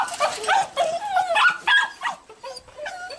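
Several kennel dogs bark, yip and whimper in quick, uneven bursts, loud and close by, with their cries overlapping.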